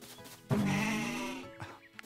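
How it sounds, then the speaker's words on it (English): A sheep in the golf video game Mario Golf: Super Rush lets out one drawn-out wavering bleat lasting about a second, clear and fairly close, with soft game ambience around it and no talking. "Oh, look at the sheep!"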